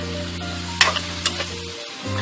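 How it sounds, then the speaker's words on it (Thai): Squid and mixed seafood stir-fried in a hot pan for Thai seafood basil stir-fry, a steady close sizzle broken by a few sharp scraping stirs and clacks of the utensil. "ปลาหมึกเราจะไม่ผัดพวกของทะเลจะไม่ผัดนานนะครับ"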